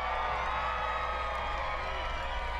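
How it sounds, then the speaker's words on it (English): Crowd noise from an audience at a pond skim event, a steady dense roar of cheering voices held throughout, fairly loud and continuous without pause. "Let's ask for crowd reaction."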